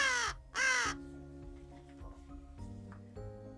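A crow gives two loud, harsh caws close by in a quiet setting, followed by softer low tones and faint rustling.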